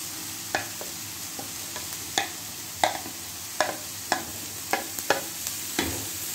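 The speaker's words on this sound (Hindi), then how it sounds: "मिक्स कर लेते हैं। 1 मिनट के लिए इसे फ्राई करते हैं।" Shredded cabbage and chicken stir-fry in a pan for sandwiches, with a soft constant sizzle under repeated sharp clicks and scrapes of a spatula against the pan at an uneven rhythm.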